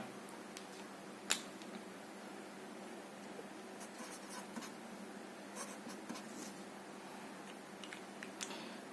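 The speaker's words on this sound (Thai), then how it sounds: "เดี๋ยวผมขออนุญาตใช้เป็นปากกาดำนะครับเขียน" A black pen writing on a board or paper while working through a Boolean algebra logic problem, steady faint scratching strokes with a few sharper ticks, close and alone.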